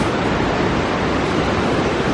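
A river in a park rushes nearby with a steady, broadband wash of flowing water. The sound is loud and continuous, with no voices over it.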